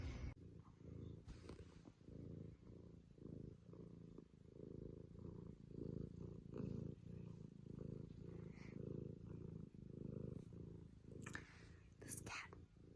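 A cat purrs close up in a steady, continuous low rumble that lasts throughout, with small rustling sounds over it and no voices.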